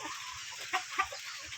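Village chickens, breeder hens and roosters, cluck softly close by: a few short, separate clucks rise over a quiet background.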